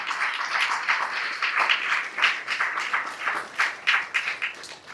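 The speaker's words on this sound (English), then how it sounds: "Please a round of applause for" A crowd claps steadily and fairly loudly for an ambassador at a Kenyan diaspora gathering, a dense, continuous round of applause with no talking over it.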